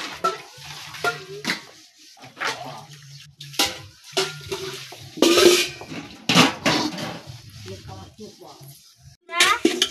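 Plates, pots and pans are scrubbed and clattered during household washing-up, with bursts of running water and splashing, uneven knocks of metal and ceramic, and a voice heard now and then.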